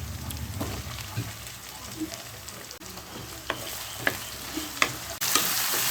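Potato and brinjal pieces sautéing in hot oil for a Tamil kara kuzhambu, with a steady crackling sizzle broken by the occasional scrape and clink of stirring.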